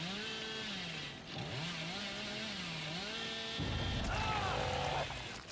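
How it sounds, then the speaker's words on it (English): Billy's chainsaw in the video game Dead by Daylight revs loudly and continuously, its pitch rising and falling in waves before a louder, harsher burst near the end. "when you're playing Billy, you literally can't hit a thing with the chainsaw"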